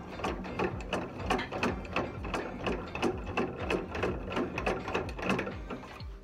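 A film developing tank holding acetic acid stop bath is agitated by hand for black-and-white film, producing a rapid, regular rattling click, close and moderately loud, with no speech.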